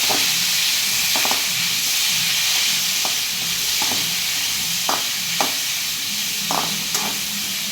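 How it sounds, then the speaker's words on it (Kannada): Chopped tomatoes fry in a hot pan with a steady, close sizzling hiss, broken by occasional stirring scrapes and soft clacks of a spoon against the pan. "ಈಗ ಕಟ್ ಮಾಡಿ ಇಟ್ಟುಕೊಂಡಿರ್ತ ಟೊಮೆಟೊಗಳನ್ನ ಹಾಕಿ ಹುರಿದುಕೊಳ್ಳಿ"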